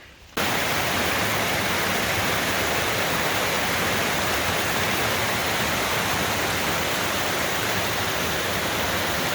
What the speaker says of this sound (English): I don't know how well you can hear me over this water because it's roaring pretty good.